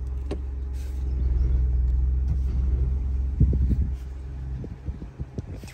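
A Ford Bronco rumbles along on the road, its engine a steady low drone heard from inside with faint wind noise, easing off near the end into a few scattered knocks and bumps.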